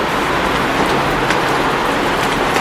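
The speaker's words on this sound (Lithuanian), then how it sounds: "O maga, koks lietus" Heavy rain pouring down outdoors, a dense, loud, continuous hiss with steady intensity throughout and no voices.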